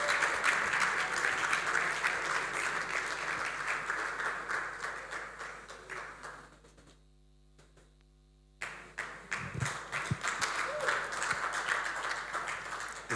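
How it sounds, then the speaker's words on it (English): An audience applauds as a conference presenter comes up, steady dense clapping that drops away briefly near the middle and then resumes loudly. "It's a 1 million naira clap."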